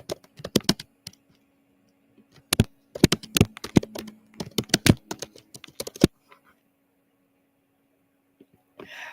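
Bursts of quick clattering keystrokes on a computer keyboard come in uneven flurries over a low steady hum, then stop, leaving a near-silent tail with one faint sound at the end.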